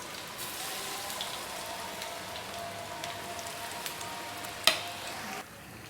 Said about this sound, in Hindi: अब मैं इसको फटाफट से फ्राई करूँगी।